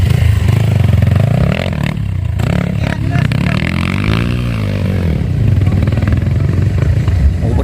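A Kawasaki enduro motorcycle at an endurocross event in La Paz, Villasis, Pangasinan revs loudly and continuously nearby, its engine note rising and falling, with clattering and scraping and voices calling out faintly underneath.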